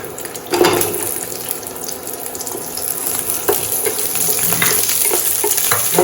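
Onions sauté in hot oil over a high flame with a dense, loud, continuous hiss and crackle, close up and without pauses.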